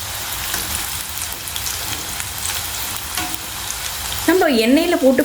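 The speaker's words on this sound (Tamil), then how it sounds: "எண்ணெய் நல்லா சூடானதும் நம்ம ரெடி பண்ணி வச்சுருக்க மாவு எல்லாத்தையும் ஒன்று ஒன்றா போட்டு ஃப்ரை பண்ணிக்கலாம்." Rolled dough pieces crackle and bubble in hot oil, a dense, rain-like frying hiss running steadily, with a brief scraping stir or turn near the end.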